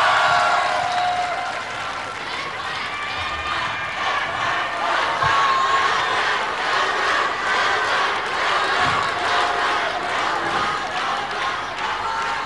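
A live audience at a televised talent show's season finale in Myanmar claps and cheers as a guest is welcomed on stage, a dense, steady wash of crowd noise with scattered shouts running for the whole stretch.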